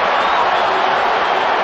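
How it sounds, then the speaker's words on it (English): Stadium crowd at a Real Madrid versus Manchester United football match, a dense, loud roar of cheering and clapping swelling briefly after an offside goal. "Excitement for the crowd again."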